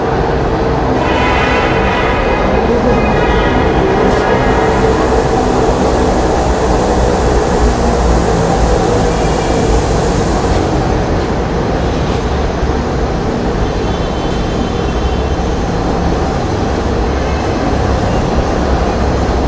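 A Dhaka metro rail train pulling into the platform, a loud steady rumble and whine that fills the whole stretch with no talk.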